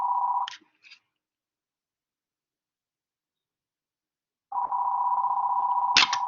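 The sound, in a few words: telephone ringing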